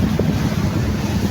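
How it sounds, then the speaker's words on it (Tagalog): Wind buffets the microphone on a boat out at sea, a loud, continuous roaring rumble with waves beneath it. "rinig naman ninyo ang ingay ng hangin"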